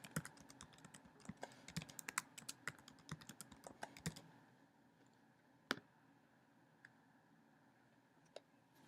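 A password is typed on a computer keyboard in quick, uneven clicking keystrokes for about four seconds, then a few isolated taps follow in near silence.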